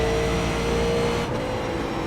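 A Super Late Model race car at Richmond in iRacing, its engine droning steadily loud and close with a sustained tone that dips slightly partway through as the throttle eases.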